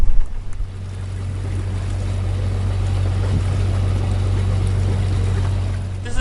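A sailboat motors through a harbor pass off Jamaica at night, its engine a steady low drone under constant water and wind rush, close and loud throughout with no talk.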